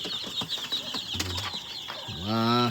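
Young chicks in a brooding pen make scattered short peeps and rustling movements, followed near the end by a louder, drawn-out harmonic call. The sounds are close and moderately quiet.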